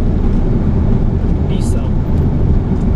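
Airbus A330-300 engines in reverse thrust during landing roll, heard from the cockpit as a loud, steady low roar that fills the whole clip, with crew voices speaking over it.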